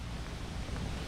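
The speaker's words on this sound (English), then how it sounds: "It is windy out here, and that wind is cold" Cold wind blows outdoors, buffeting the microphone with a dense, steady rush of low rumbling noise and no talking.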